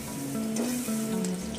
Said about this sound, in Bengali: এখন আমি ছোলা ডালে বড়া ভাজছি